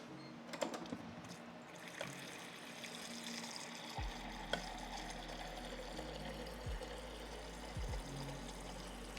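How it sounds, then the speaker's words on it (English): Water running from a tap into a container in a home kitchen, a steady broadband rush that continues throughout at moderate level, with a few clicks and light handling knocks, no talking. "I'm just filling the water"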